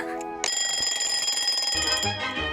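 An alarm clock rings loudly and continuously after a brief ticking start, its bright metallic bell steady for two seconds with a deeper rumble joining near the end.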